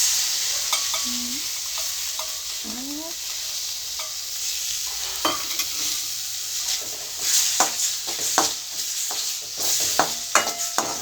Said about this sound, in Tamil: இதில் நான் 3 எக்கு உடைச்சிருக்கேன், அந்த இதை ஆட் பண்ணி நல்லா ஃப்ரை பண்ணணும்